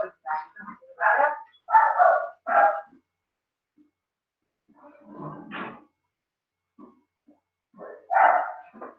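Dogs barking indoors in short clustered bursts: a quick run of yips and barks early on, then a pause, a lower bark in the middle, and one more bark near the end, fairly close with no talking.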